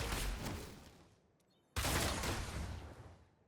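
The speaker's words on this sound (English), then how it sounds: "with 1 strafe motion, you fire 4 of the piercing beams at the same target" Demon Hunter Strafe attack in Diablo Immortal unleashing a rapid burst of piercing beam shots, which trails off into near quiet before a sudden loud volley breaks in and keeps rattling.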